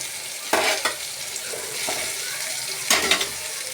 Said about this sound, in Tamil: தக்காளி நல்லா வதங்கிட்டு நான் இப்போ இது கூட கொஞ்சம் புதினா இலை சேர்க்குறேன்